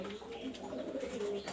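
Golden and high-flyer pigeons coo softly at close range, a low continuous warbling murmur with a few brief chirpy accents and faint background noise.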